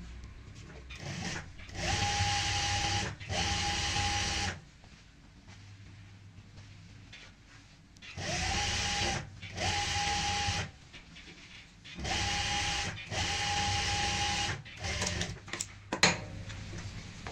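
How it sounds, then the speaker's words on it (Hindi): A sewing machine stitches along the second fold of a pintuck cushion cover in several loud, steady bursts of whirring, separated by quiet pauses while the fabric is repositioned. "दूसरे फोल्ड पे भी सेम ऐसे ही यहाँ पे सिलाई लगाएं।"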